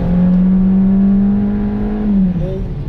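A Geely Atlas car engine held above 4000 rpm, a loud steady droning whine that holds its pitch, then dips and shifts slightly near the end.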